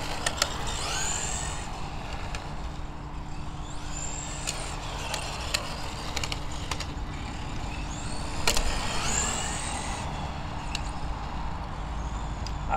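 A Tamiya MB01 Fiat Abarth 1000 TCR radio-controlled car runs on tarmac with a steady electric motor whine, rising and falling in pitch as it accelerates, brakes and turns, with tyre hiss underneath and no voices.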